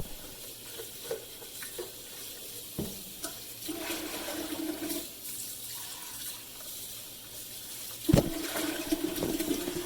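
Running tap water rinses a Preethi mixer grinder jar at a kitchen sink, a steady close splashing rush with small clatters and a sharp knock near the end.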